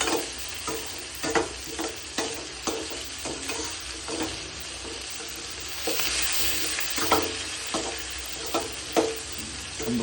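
Onions frying in a pan with salt added, sizzling steadily while a spoon stirs them in repeated scraping strokes, the bursts spaced roughly every second and growing busier midway.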